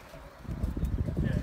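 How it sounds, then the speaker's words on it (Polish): Pigeons coo low and soft in a loft or yard during a pigeon race return, overlapping murmurs blending with faint background voices and ambient noise. "Gołębi."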